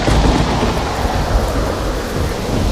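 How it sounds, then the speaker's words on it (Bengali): A violent storm with heavy rain and rolling thunder roars without a break, loud and close, with a deep rumble under the steady wash of rain and no voices. "একদিন হঠাৎ করে ভীষণ ঝড় এলো।"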